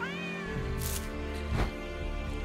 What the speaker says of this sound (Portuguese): Ele dá um miadinho fraco.